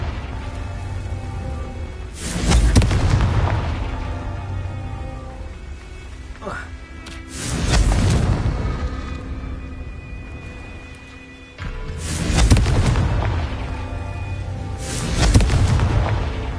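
Confringo fire spells exploding in the game Hogwarts Legacy: four loud, heavy booming blasts spaced a few seconds apart, each trailing off into a low rumble.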